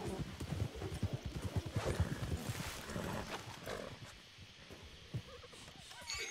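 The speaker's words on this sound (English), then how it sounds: "You can get on your own horse now." Horse hooves clip-clop in a video game, a quick rhythmic run of hoofbeats that slows and thins out over several seconds, with a player talking over them.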